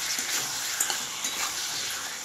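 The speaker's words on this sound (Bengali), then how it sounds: "এবার এটা আমি কিছুক্ষণ ভাজবো।" Chicken pieces sizzle steadily in a hot pan while being stirred, a continuous hiss of frying with light scraping touches throughout, close and moderately loud, no talking.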